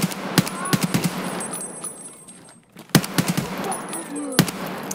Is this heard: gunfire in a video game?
yes